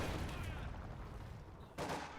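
Machine gun fire in the real-time strategy game Company of Heroes 2, a faint, steady wash of distant automatic shots with a slightly sharper burst near the end.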